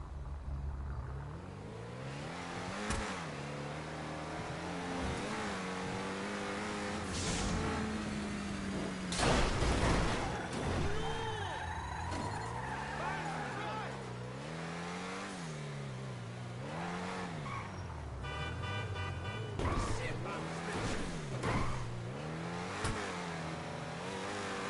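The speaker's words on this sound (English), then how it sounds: "Today on GTA 5, driving around." Car engine revving and accelerating while driving around in the video game GTA 5 on PS4, a steady engine drone with rising and falling pitch sweeps, occasional thuds and clatter throughout.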